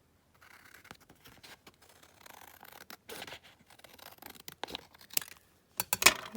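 A sticker sheet being cut with scissors, a run of soft, irregular snips and paper rustles that grow louder and busier toward the end, close and quiet.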